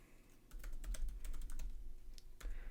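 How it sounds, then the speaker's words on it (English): Crisp, rapid keystrokes on a computer keyboard come in quick runs with short gaps, close and clear over a low background hum, with no voice. "Again, I'm typing in"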